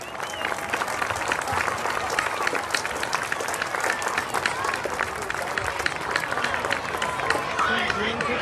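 Crowd at a baseball closing ceremony applauding for the runner-up Hawaii Rainbow Warriors, a loud, continuous patter of many hands clapping with some chatter mixed in throughout.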